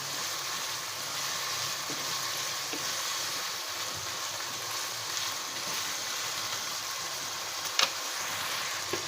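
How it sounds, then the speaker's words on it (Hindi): Chicken with green chillies frying hard over a high flame for a restaurant-style chicken cheese handi, a steady, dense sizzle holding even throughout with one brief sharper crackle near the end and no talking. "साथ साथ तेज़ आंच से पकाना है ताकि चिकन जो है वो अंदर से ड्राई ना हो, जूसी रहे"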